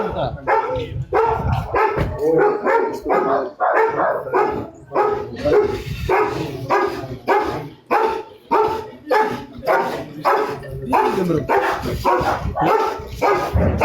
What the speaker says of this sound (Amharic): ውሻው እልልታ ላይ ነው።